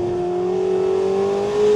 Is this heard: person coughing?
no